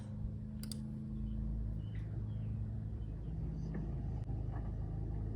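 A car climbs a steep section of dirt trail, its engine a low, steady rumble heard from inside the cabin, with faint clicks and rattles over it.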